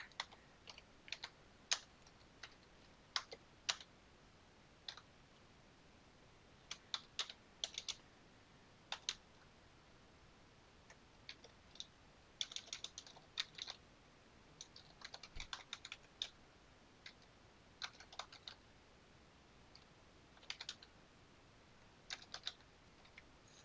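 Computer keyboard typing while charting nursing documentation: quiet, close, irregular clusters of key clicks with pauses between bursts, no voices.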